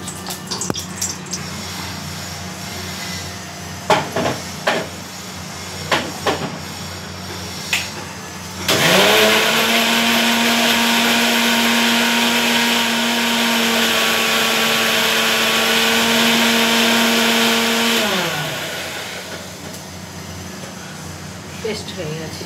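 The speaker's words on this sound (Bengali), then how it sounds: "দেখুন এরপরে মিক্সচারে পেস্ট করে নেব।" Mixer grinder whirring loudly and steadily for about ten seconds as it blends omelette-curry ingredients into a paste, starting and stopping abruptly, with kitchen clatter before and after.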